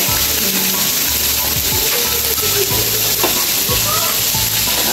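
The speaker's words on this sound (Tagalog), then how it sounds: "Inuna mo yung taba para malabas yung mantika." Pork fat frying in a pan to render out cooking oil, a loud constant sizzle with occasional spatula scrapes and stirring clatter throughout.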